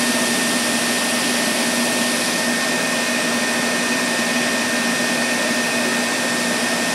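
Electric motor drawing about 1,000 watts from a LiFePO4 battery, a loud, continuous, even whine with steady tonal hum, unchanging over several seconds with no speech.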